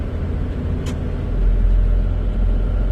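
Riding inside a moving vehicle brings a constant low road rumble that swells slightly partway through, with one faint click near the start and no talking.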